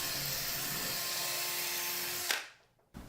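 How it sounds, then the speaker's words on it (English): An impact driver spinning in a Phillips head screw to ream it out, giving a steady loud whirring drone that stops abruptly, followed by a brief quiet and a short click. "I'm going to spin this impact driver around in here to ream it out a bit"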